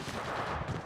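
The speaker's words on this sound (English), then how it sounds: "Firing on subject." Gunfire from a shooter in Apex Legends Mobile, a dense burst of shots filling the short moment at steady close loudness, with no talk over it.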